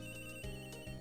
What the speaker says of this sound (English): Whose phone is that? Is that yours?